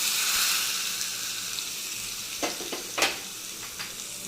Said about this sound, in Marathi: लगेच मी ह्याच्यावर ओतणार आहे